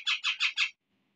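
Baby parrots being hand fed in the morning let out four quick, harsh squawks in a close, rapid burst, followed by near silence.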